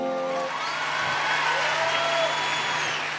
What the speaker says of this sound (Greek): Ένα καλό χειροκρότημα παρακαλώ.